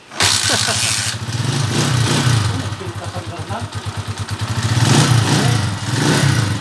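Honda TMX155 motorcycle engine idling after an overhaul with original timing gear, a steady close-up putter with brief light revs, while someone talks over it.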